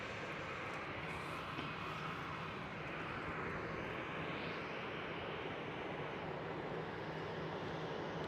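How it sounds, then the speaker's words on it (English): A KLM Boeing 737 engine starts up at Schiphol Airport, Amsterdam, giving a steady, faint, distant roar and whine that holds throughout. "KLM 737 starting up"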